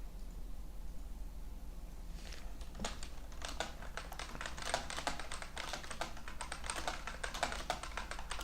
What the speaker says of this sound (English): my keyboard sounds like I'm, you know,